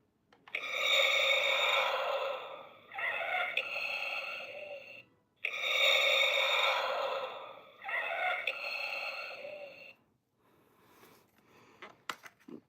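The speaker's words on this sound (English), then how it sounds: "Remember that sound he was making, how his breathing changed because he was damaged?" A damaged Darth Vader breathing effect from a Star Wars toy plays alone: two slow, loud, raspy mechanical breath cycles, each a long inhale followed by a shorter exhale, then a few faint clicks.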